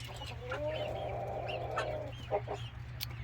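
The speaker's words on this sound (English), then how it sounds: "So it's like trying to integrate chicks and chickens." Chickens and young pullets cluck and murmur close by, one drawn-out call rising above the flock over a low steady hum.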